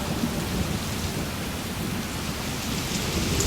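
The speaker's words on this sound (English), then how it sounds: "It's a flash flood!" A staged flash-flood effect on the Universal Studios Hollywood tram tour: dense, steady roaring rain with deep thunder rumble, loud and continuous throughout with no talking.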